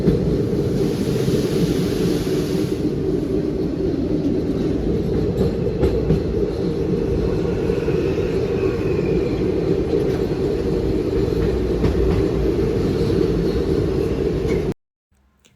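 A passenger train rumbles steadily across the Farakka Dam, its loud, continuous low roar and rattle of carriages filling the whole stretch from close by before cutting off abruptly at the end.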